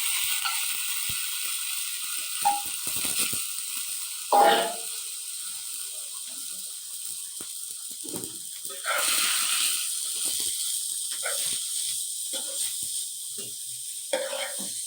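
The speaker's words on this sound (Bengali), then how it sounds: "আমি ভালোভাবে নাড়িয়ে নিচ্ছি যাতে পোড়া না লেগে যায়" Grated carrots fry in ghee in a pan for carrot payesh, giving a steady faint sizzle while a utensil scrapes and stirs, making intermittent scraping knocks against the pan.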